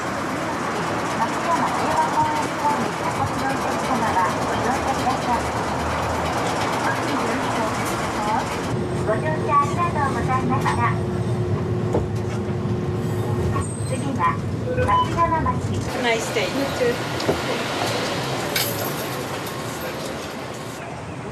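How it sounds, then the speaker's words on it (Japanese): A streetcar tram rides through Nagasaki, giving a continuous rolling rumble with rattles and a faint electric whine in the middle, heard from inside over a long stretch. "移動には路面電車を使いました。"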